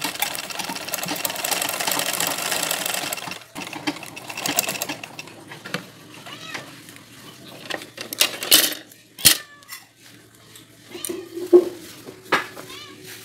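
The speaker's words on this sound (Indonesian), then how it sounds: "Jahit bagian manset dan ujung lengan dari bagian dalam seperti ini." A sewing machine stitching a sleeve cuff from the inside, a fast continuous whir for a few seconds, then quieter intermittent stitching with clicks and handling knocks.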